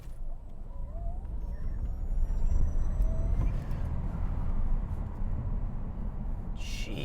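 A Tesla Model S Plaid launches hard from a standstill, a low road and drivetrain rumble that swells and stays steady inside the cabin, with a faint electric whine and a brief high noise at the end.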